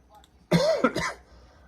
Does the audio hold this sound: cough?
yes